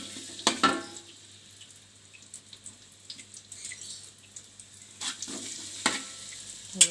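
Onions hit a hot pan for nasi bakar with teri, a soft steady sizzle broken by a few louder splattering crackles and stirring scrapes, close by with no talking.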